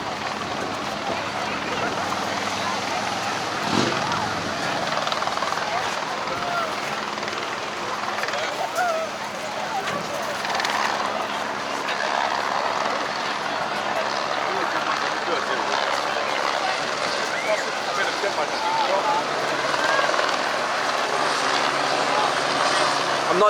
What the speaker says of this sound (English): I'm not sure what the rescue helicopter is doing here at the moment.